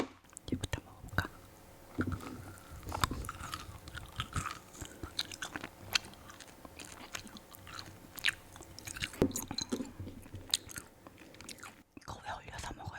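Frozen kohakuto jelly being chewed up close, with repeated crunchy bites and moist mastication throughout, mixed with soft whispered talk.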